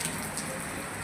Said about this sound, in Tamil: சரி மழை நின்றுணும்.